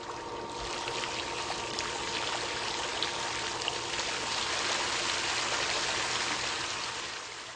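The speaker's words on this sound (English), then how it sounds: "Use the yellow lever to adjust the height of the water jets to your liking." Water jets from a Model S Fountscape decorative fountain pump set in a decorative rock splash and pour in a steady, dense rush that continues unbroken for the whole stretch, with no talking.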